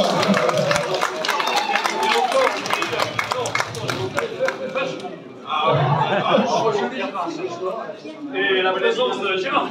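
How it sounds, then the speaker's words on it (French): Audience at a book fair in Le Tréport applauds with brisk, dense clapping and some crowd chatter, fading briefly before swelling again in further bursts. "Voilà, on peut l'applaudir."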